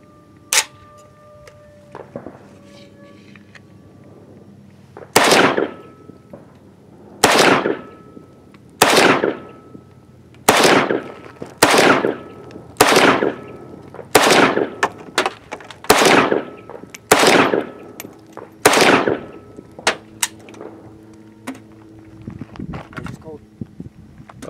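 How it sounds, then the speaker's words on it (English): About a dozen loud, sharp AK rifle shots fired on a hot shooting range, with a red dot sight fitted and steel targets downrange, spaced at a steady pace of roughly one per second with brief echo tails. "So Luke, the range is hot."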